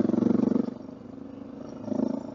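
Suzuki DR650 dual-sport motorcycle exhaust on a forest ride: a loud, throaty, pulsing thump at low revs that dips briefly and then swells again, close to the rider.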